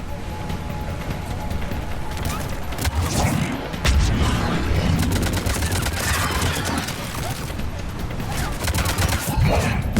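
Rapid bursts of gunfire in a Mass Effect 3 combat scene rattle on in dense volleys, loud and close, layered over game effects and intermittent talk.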